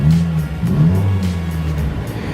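A Subaru car engine revs up close, a loud low drone that rises and falls in pitch through short surges, with no voices.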